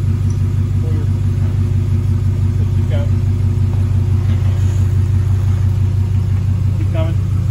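A truck in four-wheel drive low range creeps slowly forward to break a tire bead, its engine a steady low rumble close by, with no talk over it.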